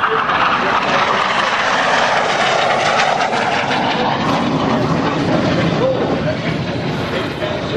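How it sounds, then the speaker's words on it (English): Warbird aircraft fly over at the EAA Oshkosh AirVenture airshow, making a loud, steady engine roar that fills the whole clip with no break. "Our Warbirds salute them as they fly over today"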